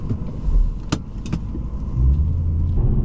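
A BMW E92 M3 is close by, with a couple of sharp door or key clicks before its engine settles into a steady low rumble that rises slightly toward the end.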